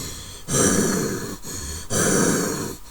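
Two long, rough breaths pushed out close to the microphone, raspy and congested with a gurgly, phlegmy texture from flu, separated by a brief pause.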